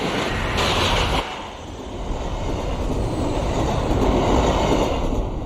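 An Amtrak Acela Express high-speed train roars past, a loud, steady broadband rush of wheels and rails with faint clatter, sustained throughout without any voices.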